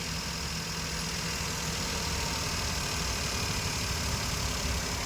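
A 2011 Maruti Suzuki car engine runs steadily up close, a continuous dense mechanical hum and rumble with no pauses and no talking.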